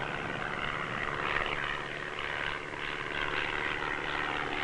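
Propeller aircraft in flight over Antarctic pack ice, its engine drone a steady, loud, continuous roar with no pauses and no voices.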